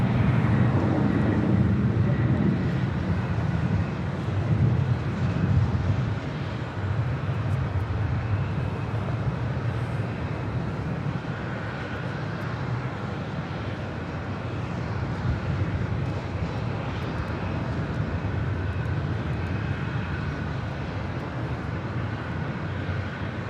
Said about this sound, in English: Next arrival here on the north side, Alaska Airlines Flight 1076 coming up from Portland,